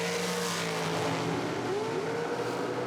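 Nitro dragsters race at an IHRA Outlaw Nitro drag race, heard as a distant, sustained roar of engines with a rising whine that sweeps upward as the cars pass down the strip.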